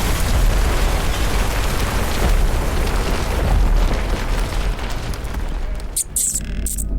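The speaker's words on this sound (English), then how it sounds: "Make ready the cannons!" Loud, booming ship's cannon fire at another ship, with rumbling blasts that fill the scene, fading toward the end.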